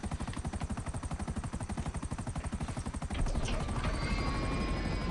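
Helicopter rotor in GTA V Online thumping in a fast, steady rhythm, then a whooshing rush with a high whine taking over near the end.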